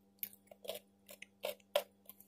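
Crunchy broccoli in a chicken salad dressed with mayonnaise and black pepper, chewed close to the mic, giving about six crisp crunching bursts in an uneven rhythm over a faint steady hum.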